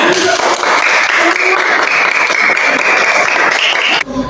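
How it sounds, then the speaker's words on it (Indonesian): Schoolchildren in a classroom clapping together, loud and close, a dense burst of rapid hand claps with some voices mixed in, sustained before stopping abruptly near the end. "Tepuk tangan semuanya."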